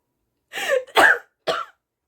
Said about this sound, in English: And of course, I still have a lingering cough.